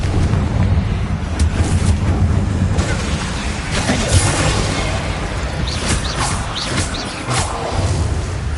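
Confringo blast curse from Hogwarts Legacy, a fiery explosion in a game, rendered as a loud, dense roaring rumble with crackling bursts that holds steady for several seconds without easing.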